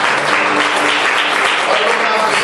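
A church congregation applauding during a worship service, loud sustained clapping filling the room, with voices mixed in beneath it.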